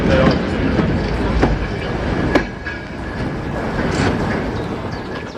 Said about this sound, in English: Southern Railway's Yuri design number 778 Richard takes a rake of flatbeds by a small settlement past a small Tidmouth junction